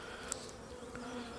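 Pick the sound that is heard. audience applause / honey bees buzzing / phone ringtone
honey bees buzzing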